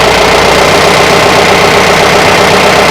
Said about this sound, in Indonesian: Coba digas, tambah gas.